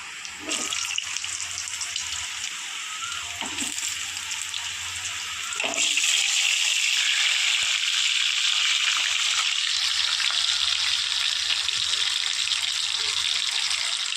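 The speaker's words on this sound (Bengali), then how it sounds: "চলো আলুগুলো লাল করে ভেজে নিয়ে আস" Potatoes frying in hot spiced oil while cooking a jackfruit and prawn curry, giving a steady, loud hiss and sizzle that swells and grows brighter partway through, with faint clatter from below.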